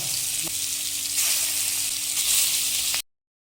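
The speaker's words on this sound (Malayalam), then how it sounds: "നല്ല മുളക് പുരട്ട് വെളിച്ചെണ്ണയിൽ പൊരിക്കണം" An egg fries in coconut oil in a hot pan, sizzling and crackling steadily, close and continuous, before cutting off abruptly after about three seconds.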